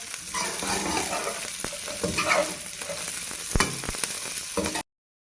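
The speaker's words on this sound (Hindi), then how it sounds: "अब इसके अंदर सब्ज़ मिर्च डाल दें, और साथ ही चिकन डाल दें ताकि इसका अच्छा सा टेस्ट आ जाए" Green chilies and chicken fry with garlic in a pan for Indo-Chinese chili chicken, giving a continuous close sizzle broken by scattered stirring clatters before an abrupt cutoff; no talking.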